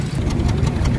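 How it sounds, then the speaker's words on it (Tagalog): A misfiring Hyundai Accent 1.4 gasoline engine idles with a loud, rough exhaust, uneven low pulsing and knocking throbs running continuously up close. "tsaka malakas yung tunog ng tambot"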